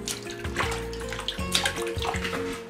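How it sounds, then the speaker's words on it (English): Salad leaves are rinsed under a running tap, with a steady splashing stream of water and irregular patters and gurgles as the leaves are moved through the flow, close and moderately quiet. "In the meanwhile, time to rinse off the salad leaves."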